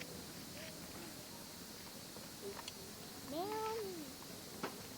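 A person imitates a cat's meow at a private camping site in a Lembang jungle, a single drawn-out, rising-then-falling mew, faint against steady background hiss.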